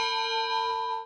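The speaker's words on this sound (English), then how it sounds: "Walk through the narrow halls, stop by the kitchen, ring the bell." Ship's bell aboard the SS American Victory steamship struck once, a bright metallic ring with a sustained tone holding steady before cutting off, close and alone.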